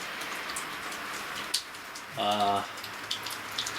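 Early morning rain patters steadily as a soft broad hiss with occasional drop ticks, while someone speaks briefly over it nearby.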